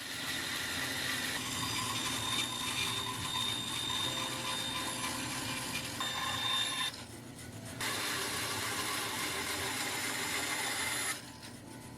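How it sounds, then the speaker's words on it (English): Bandsaw roughly cutting out a planed wooden blank for a boat's quarterknee, a steady rasping, near and continuous whine with two brief dips where the cut pauses, and no talk. "took it to the bandsaw to cut it out roughly"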